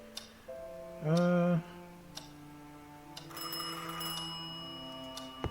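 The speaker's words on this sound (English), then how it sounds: "Majestic grandfather clock gently ticking, almost sleep-inducing." Grandfather clock in a quiet room, heard in a horror game, with faint, regular ticking under a brief loud tonal chime and ringing overtones, and a word spoken at the start.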